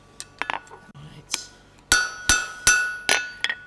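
Blacksmith's square-faced hammer strikes a hot steel bar on an anvil, sharp ringing metallic blows, a few light taps then a steady series of loud, evenly spaced strikes.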